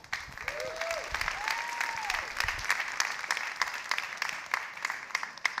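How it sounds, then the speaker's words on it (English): Applause from an audience at a talk on public servants: a full crowd clapping steadily throughout, with a couple of brief whistles near the start. "So do me a favor and give them a round of applause."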